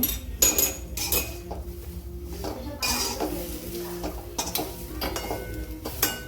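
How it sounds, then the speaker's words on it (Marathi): A spoon scrapes and clinks loudly against a pan, stirring a bhaji of tender gram leaves in repeated irregular strokes, with a faint sizzle between them. "याला चांगली भाजीमध्ये मिक्स करून घ्यायचे अशा पद्धतीने हलवत राहायची"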